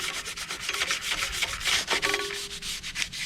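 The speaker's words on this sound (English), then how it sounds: "I'm gonna scuff it, because we wanna make sure we pretty much get everything" Hand sanding scuffing a car's painted panel before priming, rapid back-and-forth rasping strokes close up, brisk and rhythmic with no talk.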